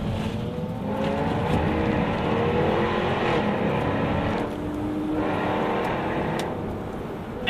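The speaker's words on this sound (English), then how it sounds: "the F-Type R with the all-wheel drive system, it dances through the corners in an impeccable way" A Jaguar F-Type R AWD is driven hard through corners on winding roads during the Mille Miglia, its engine holding a steady, loud roar with swells and dips as it moves through the bends, with no talk.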